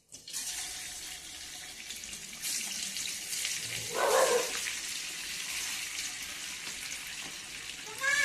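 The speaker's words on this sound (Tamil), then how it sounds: "ஊறினதுக்கப்புறம் இதை அப்படியே எடுத்து பொரிக்க போட்டுருக்கோம்" Steady hissing sizzle of marinated chicken 65 frying in hot oil, continuous and close, with a brief louder bubbling flare in the middle.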